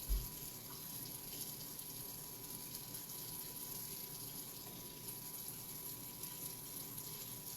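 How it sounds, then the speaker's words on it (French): Kitchen tap running steadily, a faint continuous hiss of flowing water with no voices. "je vais te laisser apprécier le bruit de l'eau qui coule"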